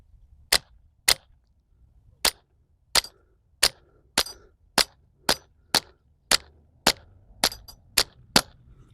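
A Sig M17 airsoft pistol fires 6mm biodegradable BBs in about fourteen sharp, loud, close shots, each a crisp crack at an uneven pace that quickens toward the end, with quiet between shots.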